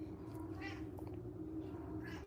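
A house cat meows repeatedly, begging for more food after already eating: several soft, fairly close meows in succession, fairly quiet, with faint room sound between them.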